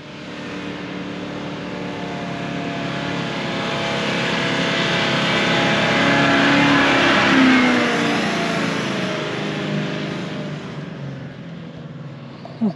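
A 4x4 engine climbs a steep dune of deep, soft, fluffy sand on lowered tyre pressures, a sustained droning roar that swells to a peak midway and then eases slightly, steady and continuous with no voices.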